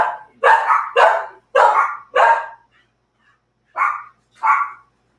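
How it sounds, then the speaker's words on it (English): Dogs bark indoors up close, a quick run of five loud barks followed by a pause and then two more. "I'm gonna throw these dogs out real quick"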